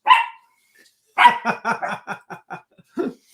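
A dog barks once, then after a pause lets out a rapid run of about eight sharp barks, close and loud.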